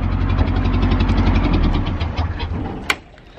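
A BMC 1.5 diesel boat engine runs close by with a loud steady knocking idle, then cuts out and fades, ending in a single sharp click.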